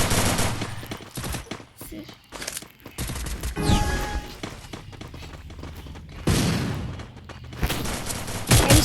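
M10 gunfire in the Free Fire video game comes in rapid bursts of shots, loud and close, with thumps between the volleys and short gaps of quiet.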